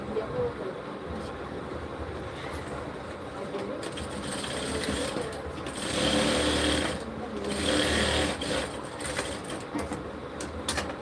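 A steady, continuous whir of a sewing machine stitching tucks on a kurti, loud and close, swelling slightly in the middle without stopping.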